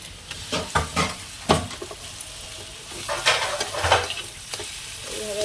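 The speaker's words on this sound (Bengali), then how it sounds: "এইভাবে একটুখানি ভেজে নেবো" A mixture with onion fries in hot oil under an ongoing sizzle, broken by repeated scraping and stirring strokes against the pan that come in irregular bursts, with no voices.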